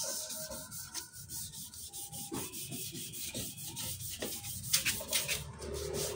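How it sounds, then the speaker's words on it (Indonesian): Sandpaper rubs back and forth on a plastic car headlight lens in quick, regular, close strokes, a soft dry scratching rhythm with no voices. "Pelan-pelan saja, yang penting rata saat mengamplas."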